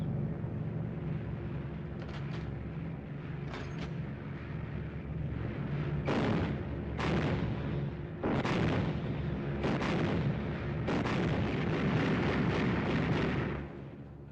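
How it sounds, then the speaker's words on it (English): Bomber gunners test-fire their machine guns in flight after leaving the English coast, several sharp bursts of rapid fire over a constant heavy engine drone. "Savage to gunners. Okay to test your guns."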